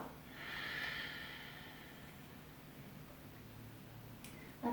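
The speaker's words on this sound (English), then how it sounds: "Long breath out." A single long, soft exhale through the nose or mouth during a calm yoga breathing exercise swells early and then fades into a steady quiet hiss, with a small noise at the very end.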